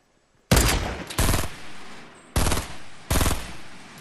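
Four loud sniper rifle shots in Fortnite, sharp cracks spaced unevenly, each with a short decaying tail, alone without talk.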